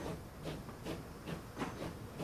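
A train in the video game Transport Fever 2 hisses steadily with a repeating rhythmic chuffing pulse, moderately loud and with no one speaking.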